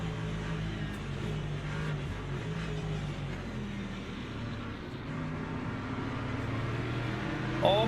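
Hypercars in the Le Mans Ultimate racing video game at Daytona, a steady drone of engine noise as cars run together on track, moderately loud and continuous, with a brief louder rise at the very end.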